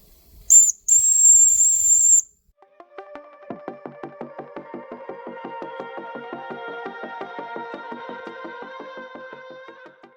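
A restored 1970s Mamod SW1 live steam wagon gives a loud, close burst of hissing steam and a brief whistle, then settles into a fast, even chuff-like puffing that keeps on steadily.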